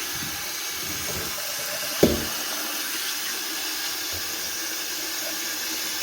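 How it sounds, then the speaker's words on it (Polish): Water streams steadily from a tap into a canning pot, rising around the lids of sealed jars, a continuous close rushing hiss with one brief knock partway through. "Będę nalewał tutaj wodę do tych zakrętek tutaj tak o."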